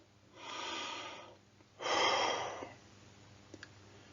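A person takes two long, deep breaths close to the mic, a drawn-out inhale and then a louder sighing exhale, followed by a couple of faint clicks.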